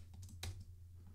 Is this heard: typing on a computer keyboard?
yes